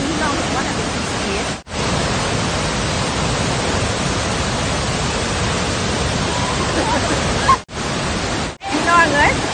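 A snowmelt waterfall at Geiranger, Norway, roars as a loud, steady wash of rushing water, broken by a few abrupt dropouts.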